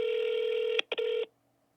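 A telephone number is dialed, with one long steady touch-tone followed by a few quick DTMF beeps, clear and close, then silence.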